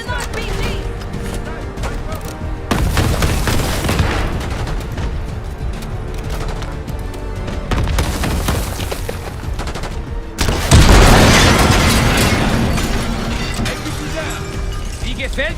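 A loud, chaotic Call of Duty: Black Ops 6 firefight, with dense gunfire and bursts throughout and a heavy RPG blast erupting partway through before the din continues, while voices shout over the combat.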